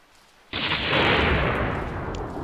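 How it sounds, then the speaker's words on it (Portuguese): A sudden, loud thunderclap in the game Surviving Titan bursts out of near silence into a broad, sustained rumbling roar that slowly eases off. "Eita, que trovoadas"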